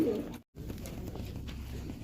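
Pigeons bred for eight-hour flights coo softly in a low, continuous murmur, close by, with a short dropout early on.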